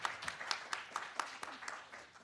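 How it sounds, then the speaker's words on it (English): Audience at an open science symposium in an amphitheatre clapping for the speakers, a brief round of scattered claps with sharp individual hits, fairly faint and tapering off quickly. "Give them a round of applause."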